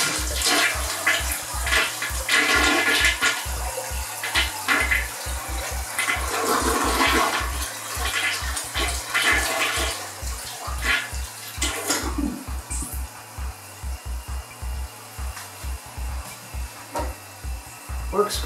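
A toilet flushes loudly up close and its tank then refills, a gushing swirl of water that settles into a steady hissing trickle, in a bathroom where the toilet has just been reinstalled on a new PVC flange.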